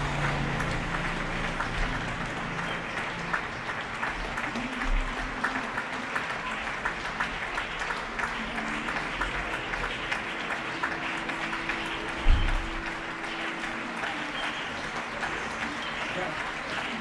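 Neighbours in Getxo clap from balconies and windows for health workers, a steady, distant patter of many hands spread across the street, with a low voice or two and a brief thump partway through.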